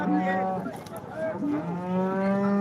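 A cow at a livestock market gives a loud, close, drawn-out moo that rises and falls in pitch, followed by a second lowing call.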